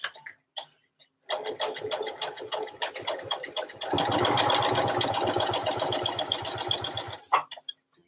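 A sewing machine sews shirring on a dress, starting with a rapid rattling run and then settling into a denser, steady mechanical hum for several seconds before stopping with a few clicks.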